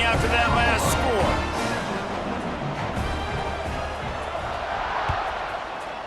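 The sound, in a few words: stadium crowd buzzing at a college football game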